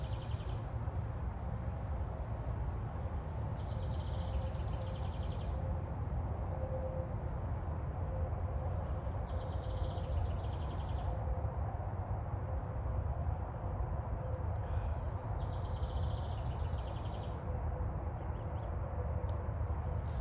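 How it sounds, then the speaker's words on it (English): A bird sings outdoors, repeating a short high chirping phrase about every six seconds over steady broadband background noise, fairly faint and distant. "I don't know what kind of bird that is."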